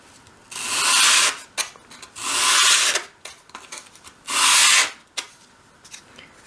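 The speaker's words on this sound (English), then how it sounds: "I'm going all the way down the sandpaper" A small wooden wardrobe part for a 1/12 scale dollhouse is rubbed along sandpaper in three long, even sweeps, each a loud, close rasp, with light handling clicks and taps between strokes.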